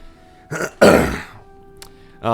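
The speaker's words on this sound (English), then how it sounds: "You'll have to forgive if I cough every once in a while. Or more like clear my throat." A person clears their throat twice, close and fairly loud, with quiet pauses between.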